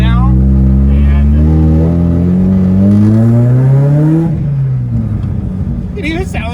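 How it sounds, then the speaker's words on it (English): A car engine with a turbo-like whine revs up steadily, rising, loud and close, then drops back as the ride continues. "it even sounds like it's got a little turbo on it"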